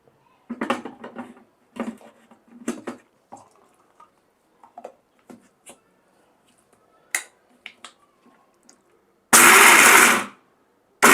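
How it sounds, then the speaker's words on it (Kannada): A loud mixer grinder whirs in a short burst near the end, coarsely grinding peanuts, after a series of scattered clicks and knocks; no talking. "ಇವಾಗ ಮಿಕ್ಸಿ ಜಾರ್ಗೆ ಹಾಕೊಂಡು ಇದನ್ನ ತರ್ತರಿಯಾಗಿ"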